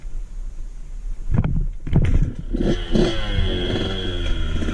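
A dirt bike rides over logs on a trail. The engine revs and labors up close, with thumps and clatter as the wheels strike and climb over the wood, and the engine note wavers throughout.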